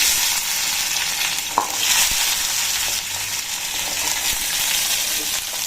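Small onions sizzle steadily in hot oil for mutton curry, a continuous loud frying hiss with a few brief stirring clinks, no voices.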